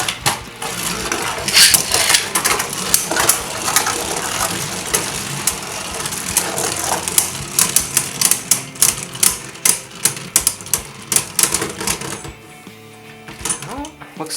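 Beyblade Burst Surge spinning tops, including Helios, launched with ripcord launchers into a Volt Knockout battle stadium, clattering loudly with rapid metallic clicks and sharp clashes that taper off near the end, while people talk over it.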